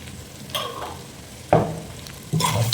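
Beef stirred with coriander powder and garam masala in a sizzling pan for beef gravy: three distinct scraping strokes over a low frying hiss, close and fairly loud.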